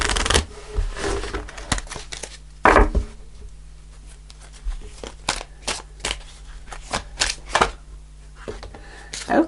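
Tarot cards shuffled and flipped during a reading, a run of crisp papery riffles and sharp slaps coming in short separate bursts, close and fairly loud, with a low steady hum underneath.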